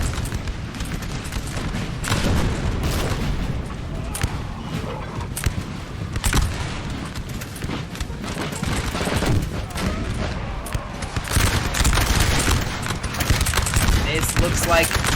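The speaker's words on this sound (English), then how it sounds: "Looks like they're firing canister." Canister and musket volleys crackle in a massed Napoleonic Total War 3 battle, with rolling bursts of gunfire and booming cannon rising and falling in loud waves throughout, and a voice talking over the din now and then.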